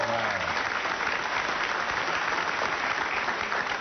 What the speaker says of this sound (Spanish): un gran aplauso fuerte para él